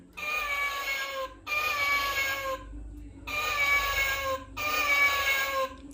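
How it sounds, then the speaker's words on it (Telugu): A kids' toy rabbit phone plays a recorded cat meow, repeated four times in long drawn-out cries with brief silences between them, close and clear. "తర్వాత క్యాట్ సౌండ్,"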